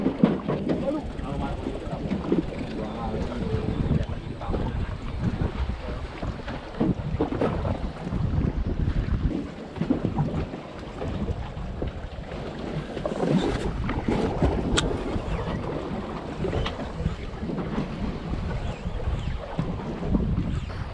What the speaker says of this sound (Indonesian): Ini hari keadaan cukup ombak, cukup angin.